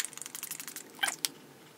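A facial spray pump from a summer beauty unboxing gives a rapid run of short, crisp spritzes, then two sharper bursts near the end, close and alone with no talking.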